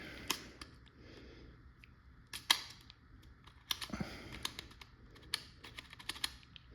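Rounds are pushed one by one into a TIPX paintball pistol magazine with a stiff spring, producing a series of quiet, irregular plastic clicks and snaps close to the mic.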